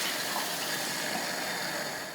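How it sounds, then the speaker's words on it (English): Clean room-temperature water is poured into a bowl of potato starch liquid, a steady, close, full gushing splash that runs without a break for the whole stretch, with no voices. "pour some clean water back into my starch liquid"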